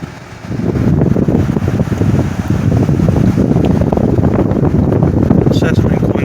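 A window air-conditioning unit on a warm summer day blows with a loud, steady rushing roar right at the microphone, its low rumble continuing without a break after a quieter first half-second.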